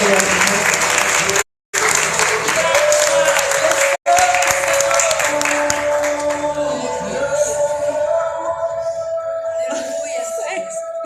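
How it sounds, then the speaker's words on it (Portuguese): A Portuguese-speaking church congregation claps hands in praise to God, loud dense clapping with two abrupt dropouts, then fading into voices and a sustained musical tone as the clapping thins out. "Palmas a Deus."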